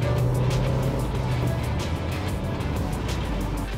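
Interior drone of a Hyundai Verna with a 1.5-liter engine accelerating, a steady close engine hum over road noise that rises briefly, then settles into a continuous rumble.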